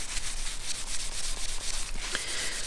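Fine microfine-grit abrasive rubbed by hand onto a wooden chess pawn, a close, steady scratchy rubbing with rapid back-and-forth strokes and a few brief knocks near the end.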